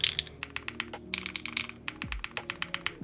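Typing on a Keycult 2/65 mechanical keyboard fitted with long pull switches, a quick, uneven run of crisp clacky keystrokes, close and fairly quiet, with a low thump partway through.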